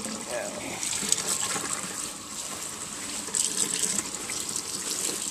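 Cold tap water runs steadily over a freshly dyed garment being rinsed, a continuous close splashing gush that swells and eases without pause.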